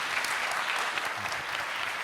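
Audience applause follows a talk at a pharmaceutical conference event, a steady dense patter of clapping that fills the whole stretch at moderate distance with no voices over it.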